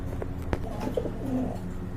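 Large, round-bodied pigeons coo in low, soft, throaty tones, with repeated coos close by over a steady background murmur.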